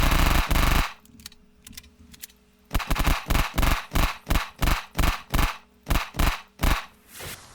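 The Peacemaker gun in Unturned fires at a tree: a loud opening burst gives way after a short lull to a steady run of evenly spaced, punchy shots that continue to the end.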